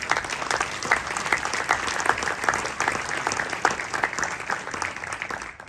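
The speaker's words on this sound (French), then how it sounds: "Merci de les applaudir à tous et merci de leur présence." Guests at the opening of a Jewish-world book fair in a town hall receive warm applause, a steady patter of many hands at moderate level with scattered sharper claps standing out, no voices over it.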